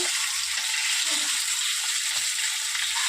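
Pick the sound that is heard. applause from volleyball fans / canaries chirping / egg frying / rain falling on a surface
egg frying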